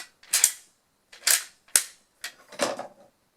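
WWII cricket clicker snapping crisply at close range: a single sharp click, then a pause, then two clicks close together. A softer double click follows, with no voices.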